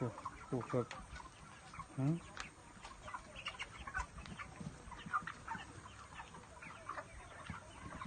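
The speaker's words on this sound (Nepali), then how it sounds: "दोस्रो खोर कुखुराको संख्या यसमा 700 वटा कुखुरा चाहिँ हो भएको" About 700 chickens cluck and squawk in a coop, a dense chorus with scattered sharp calls, moderately distant and fairly quiet.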